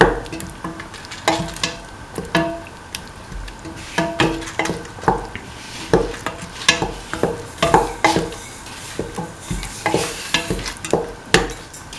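Mung bean and tomato rice is stirred in a hot pan with repeated scraping strokes of a spoon over a continuous sizzle, in a steady rhythm that stays close and loud.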